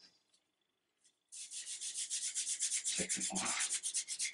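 Wooden gun stock with old varnish being sanded by hand, a steady rhythmic scratchy rubbing that starts after a quiet pause and continues close and loud, with a brief voice beforehand.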